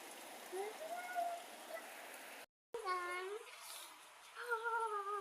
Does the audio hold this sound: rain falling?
yes